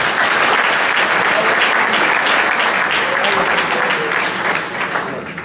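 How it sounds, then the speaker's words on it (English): Dense, steady applause from a workshop audience fills the room at close range for several seconds, then eases slightly toward the end. "So I'd like a round of applause for Billy."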